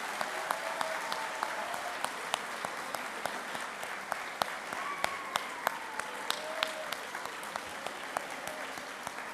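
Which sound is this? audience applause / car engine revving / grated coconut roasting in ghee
audience applause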